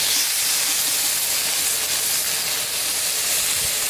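Steak sears in a pot at an outdoor campsite, producing a loud, steady broadband hiss heard up close that holds at an even level throughout with no talking.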